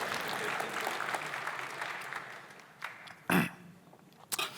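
An audience claps at a wine debate event, a dense patter of applause that thins and fades, followed by a few isolated knocks and bumps.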